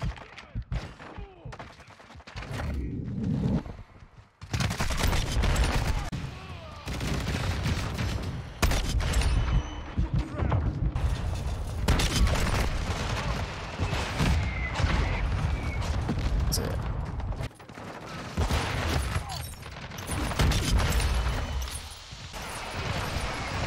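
Shotgun blasts in Modern Warfare II, heavy booming shots repeating through a long stretch of dense, loud combat noise, with a voice talking underneath now and then.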